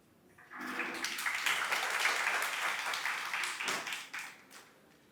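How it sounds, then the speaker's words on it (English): Applause from the audience at a scholarship cohort congratulation ceremony swells quickly, stays full and even for several seconds, then tapers off, with a brief voice at the start. "Let's give her a big round of applause, tafadhali."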